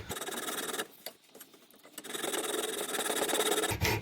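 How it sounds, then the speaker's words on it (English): A junior hacksaw cuts across a brass compression fitting olive on copper pipe with quick, close, rasping back-and-forth strokes, pausing briefly partway and then resuming steadily, with no talking. "Junior hacksaw is perfect for this, because often you won't get a full-size hacksaw in there."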